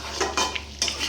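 Spiced chicken being stirred and sautéed in a pan before potatoes are added, with several scraping spoon strokes against the metal over a low steady sizzle, close and fairly loud.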